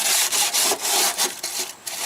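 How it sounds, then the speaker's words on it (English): Wire brush scrubbing grime from the sliding door roller track of a Toyota Sienna, quick rhythmic back-and-forth rasping strokes, about eight in two seconds, close and harsh. "and I'm gonna take a wire brush."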